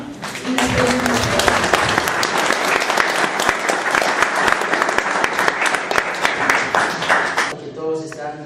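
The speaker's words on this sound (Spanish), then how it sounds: "Vamos a darle la bienvenida con un fuerte aplauso" Loud, strong applause from an audience welcoming a speaker at a talk on Cusco crosses, a dense crowd of clapping hands sustained for several seconds before tapering off near the end.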